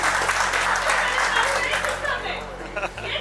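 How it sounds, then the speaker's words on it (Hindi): Audience applause at an award function, a dense, steady wash of clapping from a crowd that tapers slightly toward the end, with some voices mixed in. "तालियों के साथ स्वागत कीजिए"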